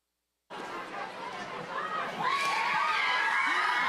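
A lively high school football crowd cheering and shouting, growing louder after a brief silence at the start, with excited voices overlapping.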